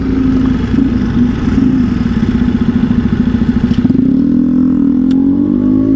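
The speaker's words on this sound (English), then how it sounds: "I'll see this big V4 engine." A 2023 Aprilia Tuono 1100 V4 Factory motorcycle's V4 engine revving up close, a loud throbbing pulse climbing in pitch, dropping back, then settling into a rough, steady idle.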